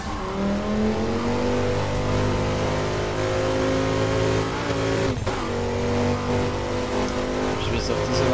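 A car engine in Burnout Paradise Remastered drones loudly and steadily, its pitch climbing and briefly dropping at each shift into ever higher gears, with a person talking over it.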